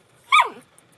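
A single dog's bark or yelp, sharp and close, sounding once inside a car in a parking lot, with a brief descending squeal-like tail and quiet surroundings around it.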